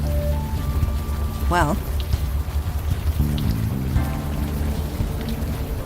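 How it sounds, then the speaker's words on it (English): Steady rain falls throughout a scene in the point-and-click adventure game Unavowed, forming a constant hiss beneath game music and a speaking voice. "Still raining."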